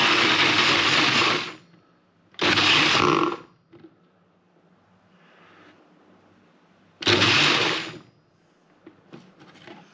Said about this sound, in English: So put the blender blades on there, screw it up,